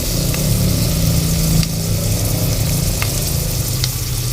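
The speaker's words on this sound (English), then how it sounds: "We'll just be frying them for a little while, that they become translucent and a bit soft." Ingredients for khichdi frying in a pan, giving a loud, steady sizzle close up with faint clicks of stirring and no talk.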